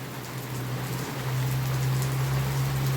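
Steady rain falling outdoors, a dense even patter of drops that grows slightly louder partway through, with a low steady hum underneath.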